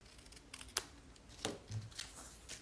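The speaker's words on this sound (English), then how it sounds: "then I just use my scissors and I can line it up" A few quiet, crisp snips of scissors cutting paper, spaced irregularly against a faint background.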